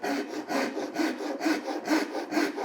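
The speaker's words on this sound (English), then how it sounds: "You can hear that the timber wants to be cut in this up direction for a Japanese rip cut." Japanese pull saw rip cutting along timber, with steady rhythmic rasping strokes about every half second, close and fairly loud, each stroke catching with a gritty wooden scrape.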